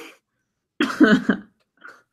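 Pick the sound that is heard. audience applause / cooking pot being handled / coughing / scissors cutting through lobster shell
coughing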